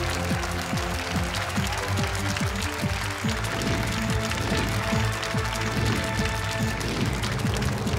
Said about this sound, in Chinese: 掌声欢迎今天晚上三位有缘人